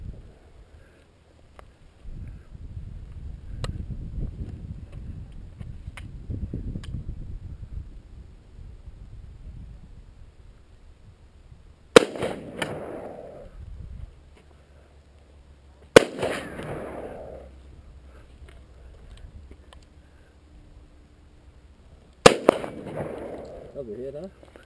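Three sharp, loud shots from a .38 Special revolver at an outdoor shooting session, spaced several seconds apart, each with a short echoing decay after a quieter stretch of wind and rumble.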